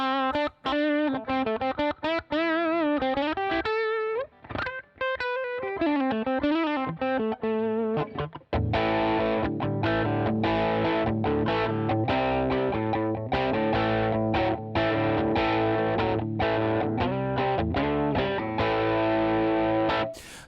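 An electric guitar played through Amplitude 5 Fender amp simulation, first a bending, wavering lead line with gaps, then loud sustained distorted chords ringing steadily with no talk.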